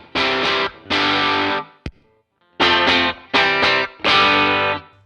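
An electric guitar played through a homemade split Fuzz Face pedal gives loud, buzzy fuzz-distorted chords in several bursts separated by short silences, with a brief click between them and the tone shifting oddly as the pedal rebiases.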